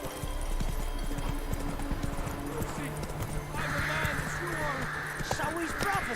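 Hooves clip-clop in a rapid rhythm as a horse gallops in a video game, joined by a neigh and whinny and a bird caw, while a voice talks over the top.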